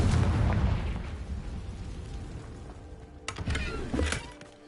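Confringo fire spell exploding in Hogwarts Legacy on PS5: a loud, broad blast that opens the moment and slowly rumbles away, followed by a second sharp burst and crackle a few seconds later.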